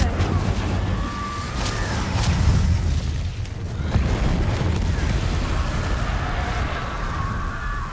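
An Incendio fire spell blast in Hogwarts Legacy erupts as a couple of heavy booms and a roaring whoosh over busy game sounds, with low rumbling carrying through.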